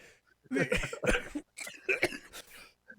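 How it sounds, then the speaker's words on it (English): A person coughs hard several times in a row while vaping, harsh, raspy bursts close up, ending with a faint throat sound. "I'll just double over coughing."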